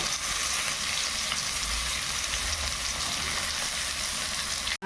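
Whole boiled potatoes and jackfruit seeds frying in hot oil in a pan, a loud, steady sizzle with crackling and occasional stirring, close and continuous until an abrupt cut.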